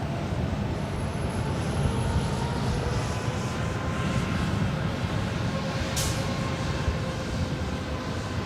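Broadband roar of an Alaska Airlines jet landing at LAX, steady and loud throughout with a constant rumble and no talking.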